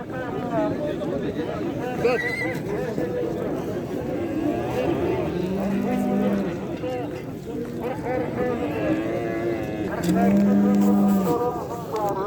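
Cattle at a livestock market in Nookat give two drawn-out low moos, one mid-way and a louder one near the end, beneath steady auctioneer talk and crowd chatter.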